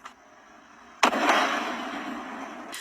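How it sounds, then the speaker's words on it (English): A loud night-time boom on the west side of Port Arthur, caught by a surveillance camera. A single sharp distant blast is followed by a long, rumbling decay. "a big boom overnight rocked the west side of Port Arthur"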